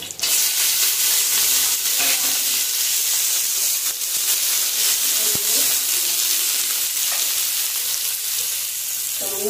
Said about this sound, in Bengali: প্রথমে সিমগুলো ভাজবো।